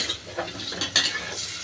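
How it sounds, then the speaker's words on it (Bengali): Dried prawns sauté in spices with eggplant and potato, a close steady sizzle punctuated by a few sharp spoon strokes against the pan. "ইসা শুটকিটা ভালো করে মশলার মধ্যে কষিয়ে নিলে তাহলেই হবে।"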